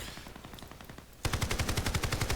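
PKM machine gun firing in a video game, a quiet rapid burst followed by a louder, sustained stream of evenly spaced shots.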